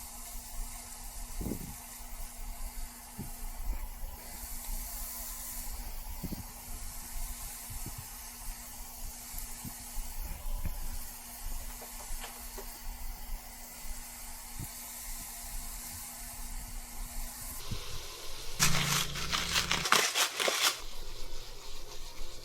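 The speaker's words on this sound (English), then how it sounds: "So once I got the pan just hot enough, I end up putting all the fish seasoned side down." Seasoned fish fillets, cut thin and laid seasoned side down in a hot pan with butter, give a steady low hiss and crackle throughout, with a brief louder burst of sizzling near the end.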